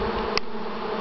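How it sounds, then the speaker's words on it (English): Honeybees during a honey harvest swarm close around a person's head, making a dense, steady buzz that stays loud and near for the whole moment, with no talking. "Concentration of buzzing around my face."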